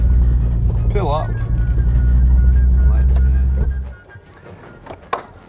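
A Hillman Imp small car idles with a steady low engine rumble up close, then the engine cuts out abruptly as it pulls up and stops, leaving quiet with a faint knock afterward.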